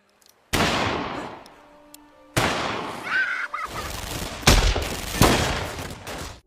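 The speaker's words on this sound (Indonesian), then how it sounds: "Tanpa basa-basi, Smelly langsung menembak Casper tepat di dadanya." Gunshots ring out in a scene from the 2009 film Sin Nombre: a few loud, abrupt blasts with reverberating tails, mixed with other film sound.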